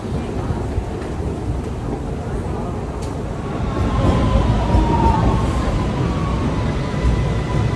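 Vienna metro train on the move, a loud steady rumble and rattle that swells partway through, with a faint high squeal of wheels on rails.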